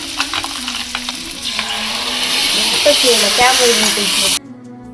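Ground masala hits a hot pan for a methi seed gravy and sizzles loudly with a steady hiss as it is stirred, then cuts off abruptly.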